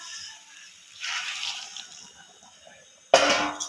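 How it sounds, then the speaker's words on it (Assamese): Hot water poured into a pan of drying kosa mutton curry, a brief hiss and splash near the start, then a louder sizzling gush of liquid hitting the hot pan at the end. "মই ইয়াত গৰম পানী দিম।"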